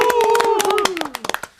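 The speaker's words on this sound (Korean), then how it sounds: "이거 우리 또 박수 한번 더 쳐야 돼요." Hands clap in a lively burst of applause in a Korean political talk show studio, sharp claps running under a speaking voice and thinning into a few scattered final claps.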